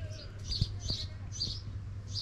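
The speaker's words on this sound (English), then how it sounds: "Birds are flitting around, the sparrows." Small birds, sparrows, give brief high chirps outdoors in rural Wales, several short calls repeating at an uneven pace against a steady low background hum, moderately close and fairly faint.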